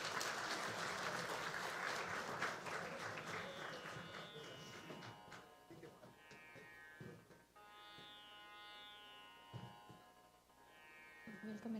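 Audience applause at a national plant health conference as dignitaries take the stage, a broad clapping wash that fades after a few seconds into a hall with tonal music or feedback and some background murmur.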